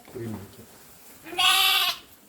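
Sheep and goats in a rural village pasture: after a quiet stretch of faint low murmur, one loud, close, wavering bleat rings out for about half a second and then stops.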